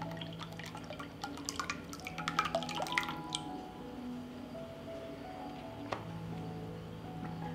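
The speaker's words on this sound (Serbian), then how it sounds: "Ljuske jajeta vadim iz ključave vode i ostavit ću na karton da se osuše." Water drips and trickles as eggshells are lifted from boiling water in a quiet kitchen, with a few light clinks early on and a steady low hum underneath.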